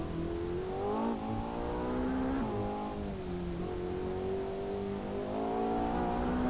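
Car engine in Assetto Corsa at full turbo boost on a Mount Akina warm-up lap, a loud steady drone that climbs through the revs, dips briefly and climbs again, with no talk over it.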